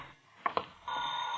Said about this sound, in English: Oh, that horrible phone.